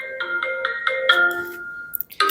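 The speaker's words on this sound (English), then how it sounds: "I'm getting a phone call from Angola." A phone rings with an incoming call, playing a bright, rhythmic ringtone of repeated short melodic notes, clear and close, before it cuts off and a brief sound follows.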